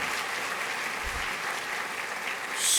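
A crowd applauding at an awards ceremony marking ten years of DCS, with a continuous, even patter of many hands that swells slightly near the end.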